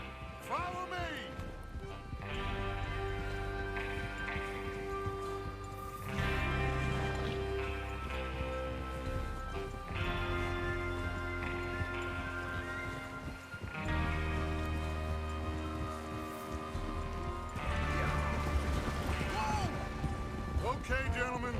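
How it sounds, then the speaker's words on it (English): Horses ridden out by a gang heading to rob a train in Red Dead Redemption 2, hoofbeats clopping under a swelling orchestral score and in-game voices. "Gentlemen, it is time to make something of ourselves. Get your horses ready."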